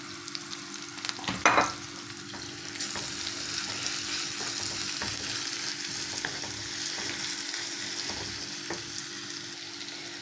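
Chicken frying with caramelized onions in a pan, a steady sizzle throughout with a clatter of stirring near the start, close and moderately loud, with no talking.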